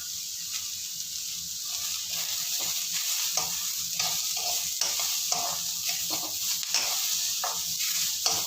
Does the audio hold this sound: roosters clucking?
no